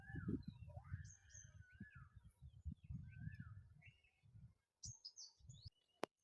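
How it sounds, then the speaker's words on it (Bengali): Several birds call and chirp from trees among jackfruit trees around a country home, whistled notes and short tweets overlapping, faint and fairly distant, with a low murmur beneath. "পাখির নানা রকম ডাক শুনতেই পাচ্ছেন"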